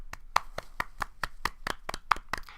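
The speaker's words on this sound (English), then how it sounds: "And golf clap." A quick run of about a dozen light hand claps in a steady, even rhythm, close and dry, with no talking, given as a mock golf clap by podcast hosts.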